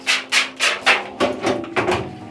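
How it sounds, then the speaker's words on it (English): A scrub pad rubbed back and forth across a screen printing screen during cleanup, roughly eight rhythmic scratchy strokes, close and fairly loud. "Then you grab your scrub pad and start scrubbing away."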